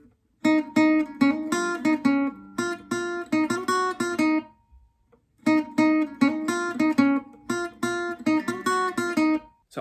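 An acoustic guitar plays the looping riff from a song, its first two sections in a row, bright plucked notes in quick rhythmic runs with a brief pause mid-way, played alone without voices.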